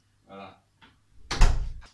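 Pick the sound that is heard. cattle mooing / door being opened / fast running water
door being opened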